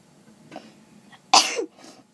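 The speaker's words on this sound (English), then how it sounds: "I have to sneeze." A single sharp sneeze bursts out after a couple of faint breathy intakes, loud and close, then a quiet exhale trailing off.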